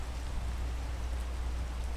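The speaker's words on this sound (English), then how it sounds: "Oh, rain. Well, I guess I have to hold it out." Steady rain falls in the Minecraft video game, a constant broadband hiss with a low rumbling undertone, even and unbroken throughout.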